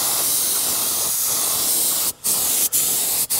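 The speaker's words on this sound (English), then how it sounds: "when you pull the trigger, air will come out" Loud, continuous air hiss from a trigger-operated paint spray gun, broken by three brief pauses as the trigger is released and pulled again.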